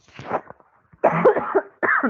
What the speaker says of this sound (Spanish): he tenido tos hace días